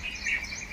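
Sparrows chirp nearby during monsoon rain, giving a quick, high, thin twitter that lasts under a second.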